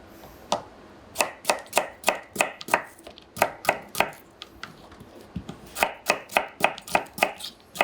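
A knife chops a turnip into small pieces on a cutting board for a turnip and clam soup, with sharp, crisp, evenly spaced knocks in close, steady bursts and a brief pause midway.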